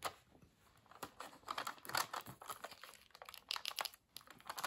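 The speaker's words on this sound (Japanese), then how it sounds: "この出ているところをテープで。" Tape is pulled and pressed onto a small paper camera made from craft paper, giving quiet crinkling, tearing and rustling bursts in an irregular, close-up rhythm.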